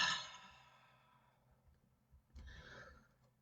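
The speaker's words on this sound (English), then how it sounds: "Exhale through the mouth." A slow, soft exhale through the mouth during a guided breathing meditation. It begins with a breathy rush and fades over about two seconds, followed by a quieter second breath.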